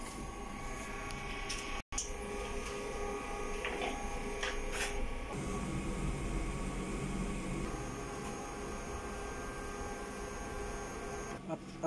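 A printer running a head cleaning cycle hums and whirs steadily for a long stretch, with occasional clicks and mechanical shifts in its drone.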